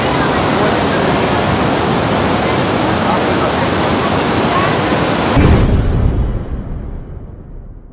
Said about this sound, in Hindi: रिवर का फ्लो देखो, मतलब इतनी तेज आवाज आने लग रही है यहाँ पे।